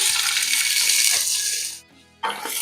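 Sliced onions drop into hot oil with whole spices and sizzle loudly in a steady, hissing wash up close, briefly dying down before surging back as the frying resumes.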